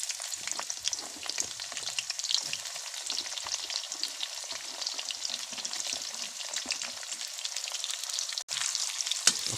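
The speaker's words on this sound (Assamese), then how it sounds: "অকণমান পিঁয়াজখিনি ৰঙা হৈ যোৱালৈকে ভাজি থাকিম" Chopped onions fry steadily in hot oil in a wok, a dense continuous sizzle with small crackles and one brief sharp knock near the end, no voices.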